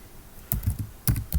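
A few sharp keystrokes on a computer keyboard, close and crisp, land in two quick clusters during a terminal session, with no talking heard.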